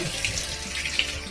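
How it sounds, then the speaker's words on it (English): Cold tap water runs steadily into a kitchen sink to soak stuffed green olives, a continuous close splashing stream with a few brighter gurgles and no one speaking. "And we're going to just soak it with some cold water."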